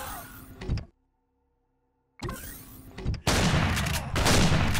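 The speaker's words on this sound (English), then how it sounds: "We'll try some shotgun action." A shotgun fires in the video game Empyrion Galactic Survival, loud blasts and a dense crackling burst cut by a sudden gap of near silence with a low hum, then heavy firing noise resumes.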